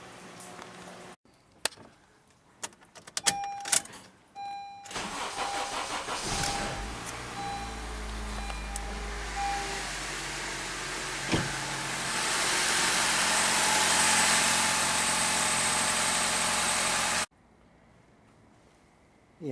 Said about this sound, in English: I got it running. The first time I tried to start it, it was real hard to start.